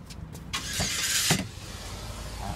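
A car passes nearby, its broad rushing swell rising and falling over about a second before fading into low background rumble.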